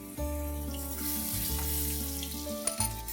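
Thick ginger-garlic paste sizzles steadily in hot oil in a pan while cooking suran bhaji, a continuous close frying hiss with a few soft stirring clinks near the end.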